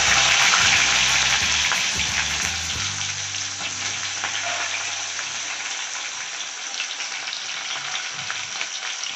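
Onions dropped into hot oil with tempering spices and green chillies, a loud dense crackling sizzle that starts strong and settles into a steady frying hiss with faint stirring, no talk.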